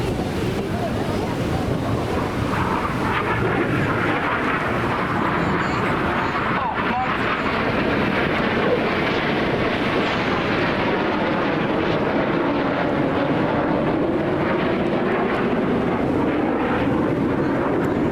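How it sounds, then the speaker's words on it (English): Red Arrows jets flying a Synchro double roll at the Blackpool Airshow make a continuous, heavy roar that swells and fades under gusty wind buffeting the microphone for the full length. "Each aircraft performing a dynamic barrel roll for the colourful and dynamic Synchro double roll."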